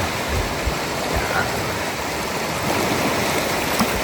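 Sea waves wash steadily on a beach during a night of camping by the shore, a continuous broadband rushing surge that stays close and loud throughout with no clear breaks.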